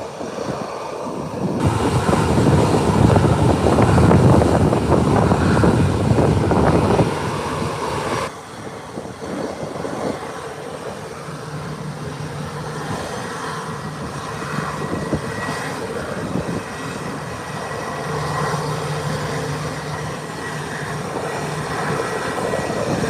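Airplane taking off at Howard Hamilton International Airport, a loud broadband engine roar that builds and peaks over several seconds, then drops to a steady quieter rumble as the aircraft moves away.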